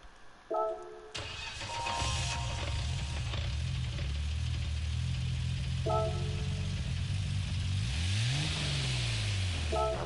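A car engine in Gran Turismo 7 cranks and catches, then runs and revs with a rough, uneven note, loud and close, with brief electronic chimes over it.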